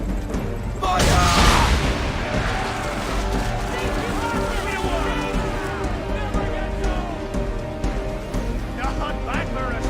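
Swivel gun cannons fire at powder kegs in an Assassin's Creed III naval battle, a loud boom near the start, then continuous game noise with music, water and voices over it.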